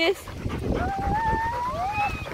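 A playful pet dog at a park whimpering and whining in rising, drawn-out tones, close and moderately loud over a busy outdoor background with people talking.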